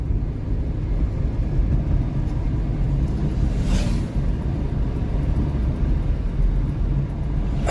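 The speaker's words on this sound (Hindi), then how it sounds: "स्पीड देखिए तो 5 गियर का स्पीड है और आप 3 में चल रहे हैं" A car engine droning steadily while driving in third gear at speed, a continuous low rumble with road noise and no change in pitch, close and loud throughout.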